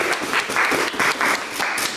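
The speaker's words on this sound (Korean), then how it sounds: "박수." A short burst of applause from a small group fills two seconds with quick, uneven clapping at close range.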